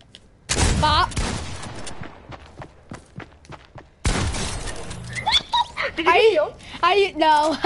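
Video game gunfire from a new gun in a deathrun match, two loud bursts of shots with scattered single cracks between them, while a voice talks over the second half.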